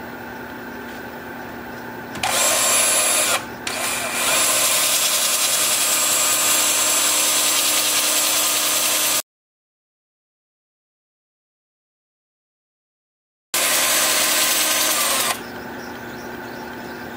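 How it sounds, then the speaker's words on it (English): Power sanding of an alder wood bowl turning on a lathe, a steady loud broadband whir running for several seconds, rising briefly in pitch, then cut off by a gap of silence before resuming. "So I'll get set up to finish sand."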